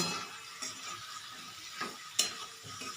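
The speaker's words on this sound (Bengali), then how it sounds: "দিয়ে এখন সব মশলাগুলো খুব ভালো করে কষিয়ে নেব।" Spices and onion sauté in a pan with a soft, steady sizzle, broken by a few scraping stirs and a sharp clink of the utensil against the pan.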